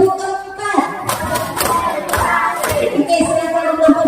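A classroom group performs a rhythmic patterned clap together, sharp hand claps and thuds mixed with chanting voices and lively crowd noise.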